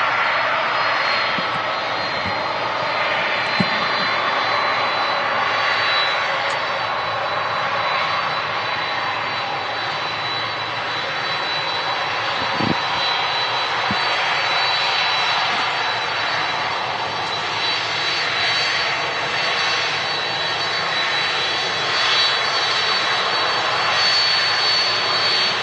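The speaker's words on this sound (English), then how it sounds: "Lovely sound of the CF6 engines on the" The CF6 jet engines of a Boeing 767 airliner at Manchester Airport give a loud, steady roar with a broad hiss and a faint high whine that holds for the whole span without talk.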